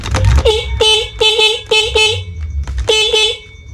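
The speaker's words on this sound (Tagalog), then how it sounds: "So gumagana naman yung ating busina" A car horn, a dual loud horn being tested, honks in a rapid series of short, loud blasts, with a brief pause before a final burst, over low engine rumble.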